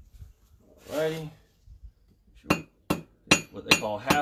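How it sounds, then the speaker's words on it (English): A few sharp metallic hammer blows on hot metal on an anvil, forging a fire striker, struck half on and half off the anvil, spaced irregularly then quickening, after a brief low vocal sound. "my hammer's half on the anvil and half off the anvil as I'm hitting it"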